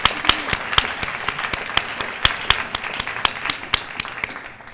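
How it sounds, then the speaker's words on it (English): Students and guests at a career program speaker event give a round of applause for their mentors, a moderate crowd clapping steadily with some sharper individual claps standing out, fading slightly toward the end. "please join me and all students in giving a round of applause to your mentors"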